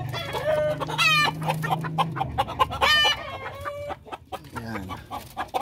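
Hens and a rooster of the Darag breed cluck repeatedly and close by, with a crow-like call rising among the fowl sounds; there is no talking.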